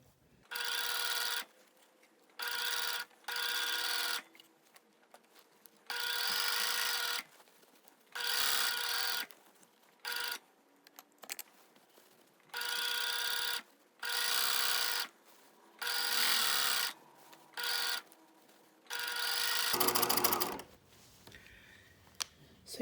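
A sewing machine stitches a broad sleeve band in repeated bursts of steady mechanical whirring, each lasting a second or two and separated by short pauses, fairly close and loud with no talking.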